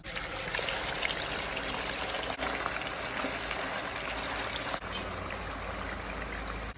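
Running tap water splashes steadily while pork is washed after deep-frying, a continuous broadband rush with no talk.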